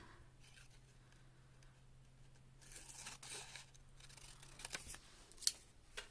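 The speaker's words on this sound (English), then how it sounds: "Let me just make it easy on myself and cut it." Scissors snipping through paper for a junk journal, a few soft crisp cuts and rustles building near the end over a faint steady hum, fairly quiet and without speech.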